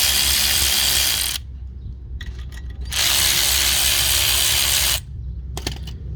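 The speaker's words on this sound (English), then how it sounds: "If you're interested in this ratchet," A ratchet wrench clicks loudly and continuously in two long bursts while loosening a rotor on a Kia Sedona during rear brake work, with quieter metallic handling sounds in the pauses between.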